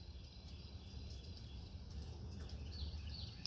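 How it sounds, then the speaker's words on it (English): Faint outdoor ambience with scattered bird chirps and insect buzzing over a low steady rumble, distant and continuous, with no voices. "I hear birds."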